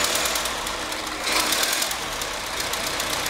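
A 1912 Ford Model T four-cylinder engine runs on its first start in a long time, a rough, loud, rapid chugging with uneven knocking and no talk over it.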